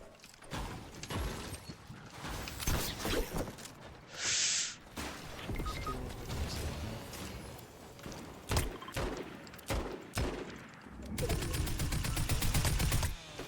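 Gunshots in Fortnite, sharp close bursts and single reports scattered across game ambience, with a dense run of rapid fire near the end.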